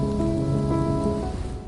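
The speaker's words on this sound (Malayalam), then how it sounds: "രാവിലും പകലിലും ഇരുട്ടുകുത്തി പെയ്യുന്ന മഴ" Rain pouring steadily over the Saudi desert, a dense, continuous hiss of drops with a low rumbling undertone, fairly loud and unbroken throughout.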